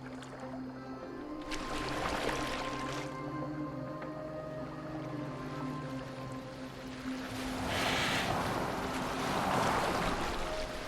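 A boat moves across open water in the Viking-era game Assassin's Creed Valhalla, with steady low hull rumble, sloshing waves and surf building louder toward the end, no voices.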